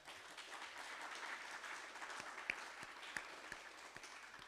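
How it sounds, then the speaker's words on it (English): A small audience at a storytelling event in a public art gallery claps in a soft, steady round of applause, heard from a distance with a few sharper claps standing out near the end. "So a round of applause for them."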